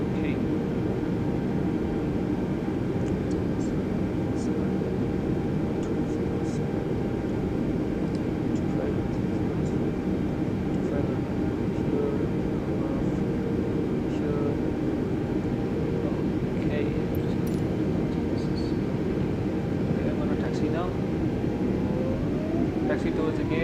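A fixed-wing aircraft taxis towards the gate after landing at Dubai, its engine drone steady and loud throughout, with a faint rising whine late on.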